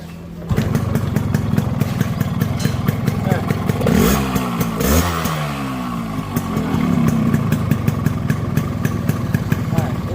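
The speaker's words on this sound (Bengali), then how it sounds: "ইঞ্জিনের একবার জিরো সাউন্ড আপনাদের তো দেখালামই আরও আরেকবার দেখায়" A Yamaha RX 100 motorcycle engine idles steadily and close up, with a brief throttle blip in the middle before settling back to a loud, even two-stroke idle.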